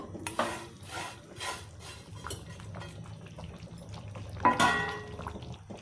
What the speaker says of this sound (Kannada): ಈ ಥರ ಕಲಿಸ್ಕೋತ ರವೆ ಹಾಕಬೇಕು.